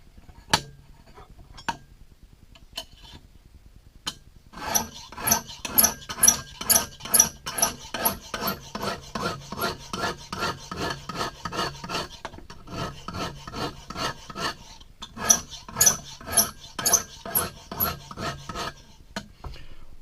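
A knife blade drawn across a Lansky diamond hone in a long run of rhythmic rasping strokes, sparse at first and then fast and regular, close and fairly quiet with no talking.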